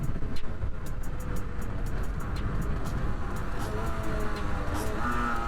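1982 Honda MTX 50, a little 50cc motorcycle, cruising on a road in sixth gear, with steady engine drone and wind rush heard from the rider's position throughout.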